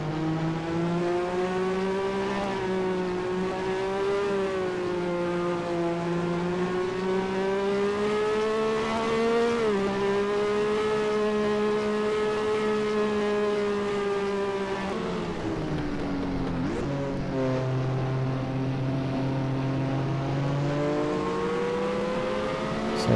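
A racing car engine in a NASCAR Racing 2003 game drones continuously at high revs, its pitch rising and dipping with gear changes, loud and close throughout.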